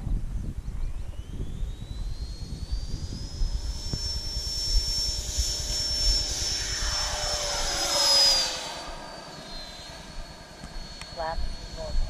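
A Freewing F-22 Raptor RC jet's electric ducted fan spools up to a loud rising whine and holds a high steady tone as it takes off, then fades and shifts as it climbs away, with talking underneath.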